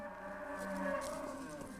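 Cattle on open grassland give a low, drawn-out moo that swells and fades, fairly distant over faint ambient noise.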